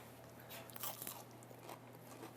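A single crisp bite into a crunchy fried potato latke, followed by a few soft chewing crunches, close and quiet with no talk.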